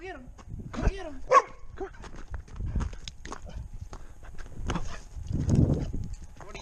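A dog barks a few times amid outdoor farm activity, with people talking and other animal and movement noises around it.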